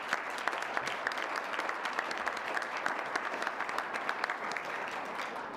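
An audience claps at a university presidential announcement event, sustained even applause from a crowded room at moderate distance, with no speech over it.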